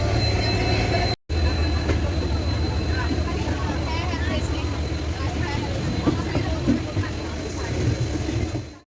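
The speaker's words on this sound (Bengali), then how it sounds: "তারপরে কিন্তু আমাদের ট্রেনটা পাস করছিল রূপনারায়ণ নদী" A passenger train runs with a continuous heavy rumble and rattling wheels, heard from aboard, with a brief dropout early on and faint voices in the background.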